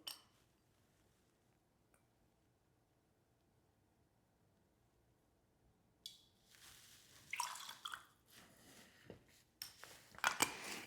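Campari and sweet vermouth poured into a cocktail glass for a low-ABV highball, with a near-silent stretch giving way to close splashing, trickling liquid and light glass clinks in the second half.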